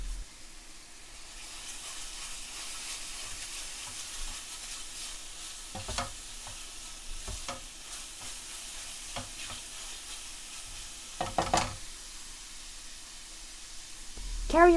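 Steady sizzling of chicken frying in oil and spices in a pot, broken by occasional scraping stirs and a louder clatter near the end; no talking.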